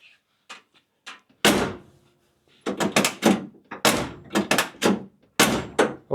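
A 1968 Mustang door being opened and closed repeatedly after a fresh paint job, a series of close, solid thunks and latch clicks with short pauses between them.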